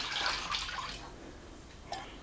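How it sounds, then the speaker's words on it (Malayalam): Water poured from a cup into a pot of milk for payasam, a soft splashy flow with a brief pouring burst near the end, fairly quiet and close. "2 കപ്പ് നിറയെ വെള്ളവും കൂടി ചേർത്ത് കൊടുക്കാം."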